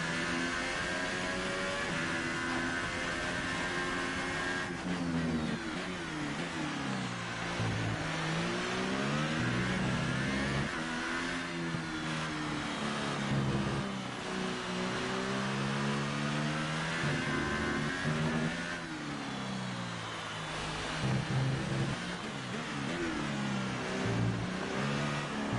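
A race car engine in a racing video game revs hard throughout, its pitch climbing and dropping over and over as the car is pushed through the laps, loud and continuous with no talking.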